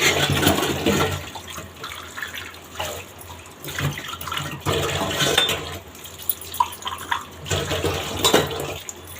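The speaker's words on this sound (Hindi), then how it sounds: "मैं बर्तन मांज लेती हूँ" Dishes being scrubbed and rinsed under a running kitchen tap during household cleanup, a steady hiss of flowing water broken by clinks and splashes of utensils, close and fairly loud with no talking.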